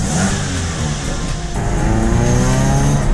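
A Cosworth-supercharged Scion FR-S pulls hard and loud from close by, its engine rising cleanly and evenly through the revs with a steady, unbroken note and no sputter.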